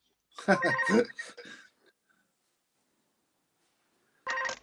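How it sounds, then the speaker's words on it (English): Telephone ringing faintly in the background during a live cricket preview broadcast, one short burst of ringing near the end, after a stretch of speech and quiet. "Phone going off in the background."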